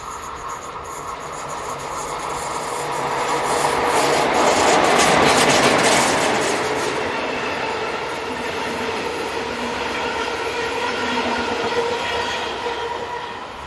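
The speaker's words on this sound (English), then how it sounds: "Nearly at the top, 151023 passes the summit as it heads this southbound intermodal." A southbound intermodal freight train crests the summit of an incline in Europe, a long steady roar of wheels and wagons building to a peak, then rolling on with rhythmic clatter and faint squeal, with no voices.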